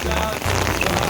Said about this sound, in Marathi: बघा, आज पाऊस पडतोय